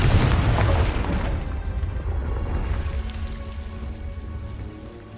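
Confringo fire spell blast in Hogwarts Legacy, a loud booming burst at the start that decays into a lingering rumble and crackle over about five seconds, with no talk.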